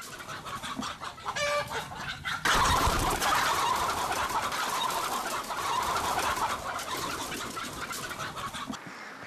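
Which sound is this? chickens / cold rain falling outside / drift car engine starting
chickens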